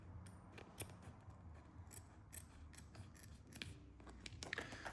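Scissors snipping through a card sleeve to trim a game-token border, giving a quick series of close, crisp cuts in an irregular rhythm, soft but distinct.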